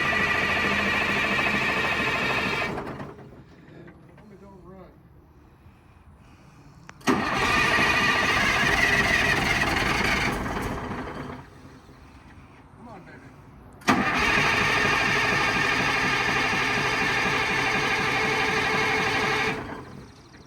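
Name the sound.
M920 medium equipment transport truck engine starting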